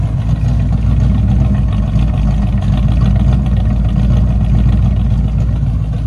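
A 1985 Chevy Monte Carlo with a 305 V8, true duals and straight pipe exhaust, idling loud and close with a steady, deep rumbling burble throughout, no voices.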